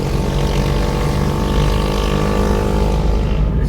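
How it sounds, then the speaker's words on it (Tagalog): A motorbike's exhaust roars loudly and close by, a steady, dense droning rumble with strong low harmonics that holds throughout the short stretch before easing slightly at the end. "parang nabibingin ako sa tambutso mo ate"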